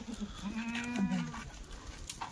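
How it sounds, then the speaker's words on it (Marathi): Kathiawadi goats at a livestock sale bleat close by, one drawn-out nasal call rising and wavering for about a second amid a crowd of faint background voices and rustling. "हे बघा ती शेळी मित्रांनो"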